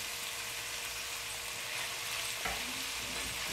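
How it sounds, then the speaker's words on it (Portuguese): Kale cooking in olive oil and salt, a steady close sizzle with a brief stir of the pan partway through. "A couve é só cozinhar ela no azeite e no sal."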